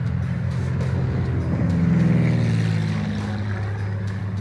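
Warplanes passing overhead in a war documentary scene, a sustained droning propeller engine roar that swells and shifts in pitch as it passes, fairly loud and steady, with no talk.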